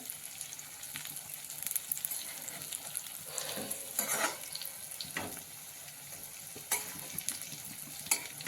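Stuffed capsicums fry in a pan while a utensil stirs and turns them, making soft scraping and clattering over a steady sizzling hiss, close and moderately quiet, with no talking.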